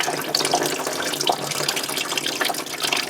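Water pours and splashes steadily out of a burnt 1955 Buick engine, a close, continuous gushing trickle with fluctuating spatter and no talking.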